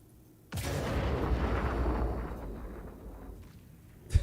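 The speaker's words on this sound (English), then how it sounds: "Did you detonate? How did you detonate that?" A loud detonation bursts in Star Citizen, a sudden heavy boom that rolls into a long rumbling tail before a sharp thump at the end.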